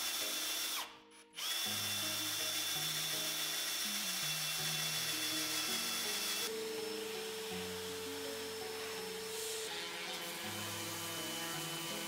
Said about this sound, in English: pick a spade bit with the same diameter as the test tube and drill into the wood deep